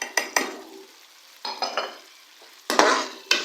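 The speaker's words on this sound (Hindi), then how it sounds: "मसालों को अच्छी तरह से अब हम लोग मिक्स करेंगे" Raw fish pieces being rubbed and mixed by hand with red chilli powder and salt for a Lahori fish fry, heard as three close clusters of soft, wet squishing and slapping bursts separated by brief pauses.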